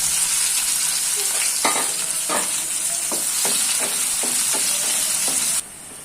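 Onions fry in a pan with a constant loud hiss, broken by a series of spatula scrapes and knocks, roughly one every half second, before the sizzle drops away at the end.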